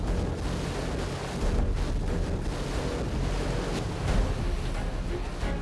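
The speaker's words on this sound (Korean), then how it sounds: "바람 소리가 심상치 않습니다." Strong wind howls over the open sea during a fishing trip off Uljin, roaring loudly and continuously against the microphone alongside churning waves, with no talk.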